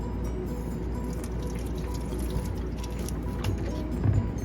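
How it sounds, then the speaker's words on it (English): A peeled onion rinsed under a running kitchen tap, a steady moderate rush of water with faint splashing, no talking. "And you can rinse off the onion."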